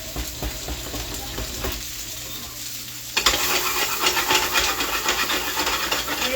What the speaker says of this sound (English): I'm roughly just sauteing this, as you can see.